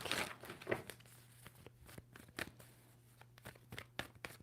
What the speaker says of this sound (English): 2 more shuffles for Aries.